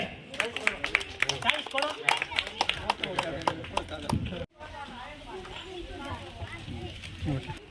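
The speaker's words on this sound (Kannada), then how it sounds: "ಜೋರಾದ ಚಪ್ಪಾಳೆಯೊಂದಿಗೆ" Loud, dense applause breaks out at a school event where a High Court lawyer hands out books and pens to government school children, rattling for about four seconds before it cuts off and a voice starts talking.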